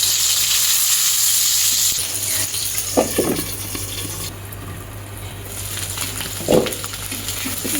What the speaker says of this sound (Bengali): ডিম ভাজা হয়ে গেল